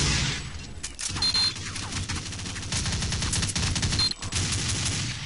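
A Bullpup rifle firing in Counter-Strike: Condition Zero, dense rapid automatic bursts that run almost continuously, loud and close, with a short break near the middle.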